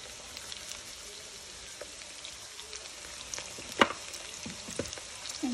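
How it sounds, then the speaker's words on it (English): Potatoes fry in bacon grease, with a steady soft sizzle and a few sharper crackles and pops near the end. No one speaks. "actually like to save my bacon grease and put it in with my fried potatoes"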